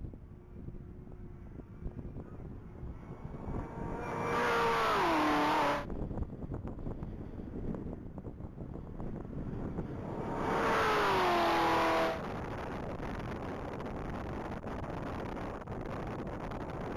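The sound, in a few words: black 2021 Camaro ZL1 accelerating at top speed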